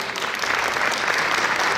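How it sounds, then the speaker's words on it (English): Brief burst of audience applause at a Diwali community service event, dense steady clapping from a crowd filling the whole moment. "let's give a big round of applause for Ekta."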